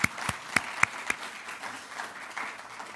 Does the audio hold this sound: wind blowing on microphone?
no